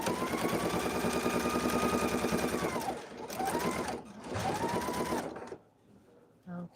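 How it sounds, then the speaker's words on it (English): A sewing machine stitches across the top of a zippered project bag in close, loud runs of rapid rhythmic whirring, broken by short pauses before it stops, with a brief voice near the end. "now we will stitch across the top"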